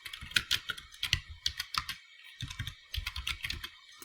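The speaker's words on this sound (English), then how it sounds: "we are going to type in our list item" Typing HTML code on a computer keyboard: quick clusters of crisp key clicks in uneven bursts, with short pauses between, heard close and alone.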